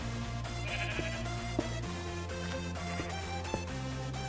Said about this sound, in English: Now I'm going to repeat this process by spawning them in.